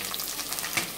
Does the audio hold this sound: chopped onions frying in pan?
yes